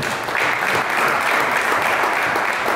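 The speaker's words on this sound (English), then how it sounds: "Let's give her a big round of applause." A press-conference crowd at a boxing promotion applauds steadily, a dense wash of clapping sustained for the whole stretch.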